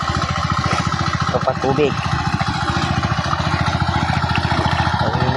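A small motorboat engine putters steadily with a rapid, chugging pulse while the boat heads home across the water. It runs loud and close throughout, and a person talks over the engine.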